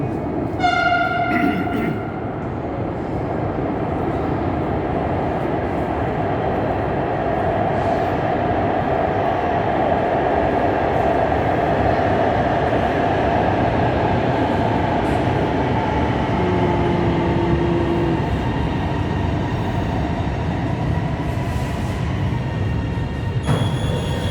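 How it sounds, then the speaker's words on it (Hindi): Lahore Orange Line metro train approaching a station, a loud sustained rumble and rolling roar that holds for the whole stretch, with a brief horn-like tone early on and faint voices underneath. "ट्रेन आ रही"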